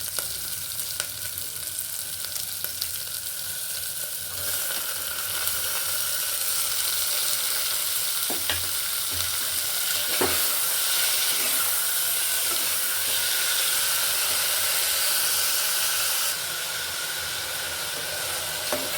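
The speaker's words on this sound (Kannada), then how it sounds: "ಸ್ವಲ್ಪ ಬೆಂದ ಮೇಲೆ ನಾವು ಟೊಮೆಟೊ ಹಾಕಿ ಫ್ರೈ ಮಾಡಬೇಕು ಇದಕ್ಕೆ" Tomatoes fry in a pan over a medium flame for tomato rice, giving a continuous close sizzle and hiss with a few faint clinks of stirring.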